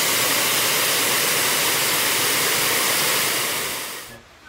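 Small waterfall in the Yercaud foothills at Kurumbapatti, a steady, loud, broadband rush of falling water heard up close and alone, cutting off abruptly near the end.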